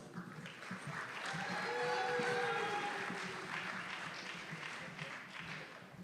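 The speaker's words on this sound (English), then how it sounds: "How about a nice round of applause for all those graduates in the curriculum and instruction for their master's degree." Applause from a commencement audience honoring master's degree graduates in curriculum and instruction, a steady wash of clapping that swells in the middle and carries on to the end, with faint voices underneath.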